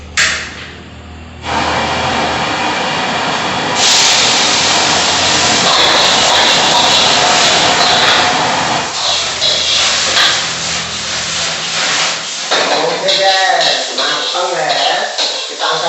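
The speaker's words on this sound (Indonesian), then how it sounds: "untuk pertama kita goreng seafoodnya dulu ya" Seafood fries in hot oil in a wok, a loud continuous sizzle and hiss that swells and shifts as the pieces move, with clattering utensils and a voice talking near the end.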